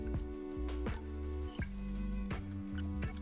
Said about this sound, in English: So I'm gonna pour this back in, nice and careful.